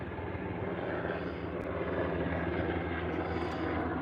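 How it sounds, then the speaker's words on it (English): A military helicopter passes overhead, its rotor and engine producing a continuous, fairly loud throbbing drone that holds steady across the few seconds, with no voices. "let's take a look at the helicopter"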